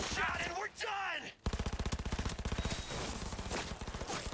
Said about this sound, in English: Oh, one good shot and we're done!